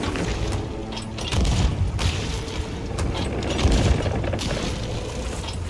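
Gunfire and booming shots from shooting in the pirate video game Sea of Thieves, several loud bursts over a steady rumbling game background, with heavier blasts near the start and middle.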